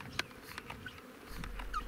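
Honey bees buzzing over the frames of an opened beehive during spraying with a bee vitamin supplement, a faint, steady insect drone with scattered brief buzzes close by.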